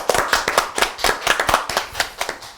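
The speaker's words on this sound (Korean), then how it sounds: "스스로 한번 박수 한번 주시죠." A talk-show studio audience claps for themselves in a short burst of sharp, close, fairly loud applause with distinct individual hand slaps.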